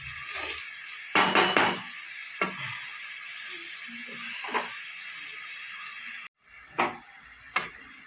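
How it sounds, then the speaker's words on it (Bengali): Carrots, cauliflower and beans frying for chowmein hiss under a constant sizzle, broken by several sharp scrapes and clanks of a spatula stirring in the pan, close by and with no voices. "সবজিটা আমার ভাজা হয়ে গেছে, গাজর, ফুলকপি আর বিনস অনেকটাই হয়ে গেছে।"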